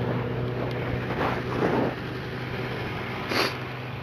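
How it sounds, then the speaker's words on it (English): A snowmobile passes at a distance, its engine a faint, steady drone that swells slightly before easing off, mixed with outdoor wind noise and no talking. "Snowmobile's going by all day."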